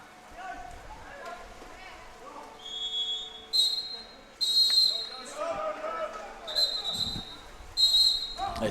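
A referee's whistle at a schoolboy water polo match, several sharp shrill blasts that repeat over the splashing and crowd noise of the pool, with a commentator talking throughout.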